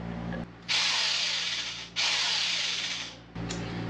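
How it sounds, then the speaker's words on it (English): A power drill drilling a hole in an RV whirs in two long bursts separated by a short pause, with a low hum before and after, loud and close. "going to make me drill a hole"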